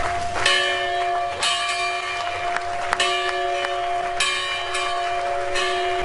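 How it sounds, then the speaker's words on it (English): A church bell from First Baptist Church in Williamsburg, Virginia, rings out in repeated, evenly spaced strikes, each one sharp and resonant with a long ringing tail that overlaps the next. "ringing a bell from First Baptist Church in Williamsburg, Virginia, declaring the museum open"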